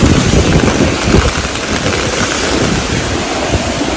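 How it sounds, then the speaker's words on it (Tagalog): Heavy rain pours down in a loud, continuous roar, with gusty rumbling mixed in and no voices. "Lakas ng ulan guys."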